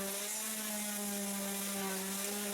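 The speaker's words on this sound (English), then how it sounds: "Now I'm sanding the corners to make sure that I have a super nice edge." A power sander works the corners of a wooden Cessna 172 flight simulator panel, giving off a steady, unbroken motor hum with a gritty hiss and no talk.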